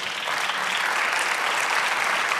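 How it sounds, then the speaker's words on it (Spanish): A church congregation applauds continuously at moderate distance, a dense wash of many hands clapping with no voices standing out. "Dele otro aplauso al Señor"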